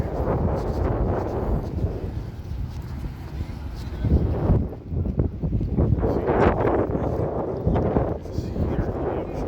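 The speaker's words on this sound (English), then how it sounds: "it's a little windy" Gusty wind buffeting the microphone in a parking lot at Shoreline Amphitheatre in Mountain View, with low rumbling roars that rise and fall, loud and close throughout.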